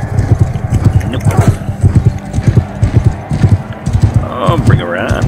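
A horse's hooves pound in a quick, steady clip-clop rhythm during a ride in the video game Mount & Blade II: Bannerlord, loud and close, with a voice present underneath.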